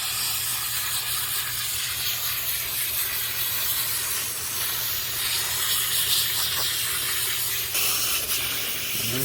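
Garden hose water spraying to rinse out a pond filter outdoors, a steady loud hissing spray that runs continuously with a low hum underneath and small splashy shifts, no talking.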